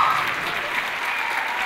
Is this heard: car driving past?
no